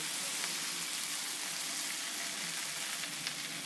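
Okra (bhindi) sizzles and fries steadily in masala in a pan for dhaba-style dahi bhindi, a continuous, fairly loud crackling hiss from close by with no talking.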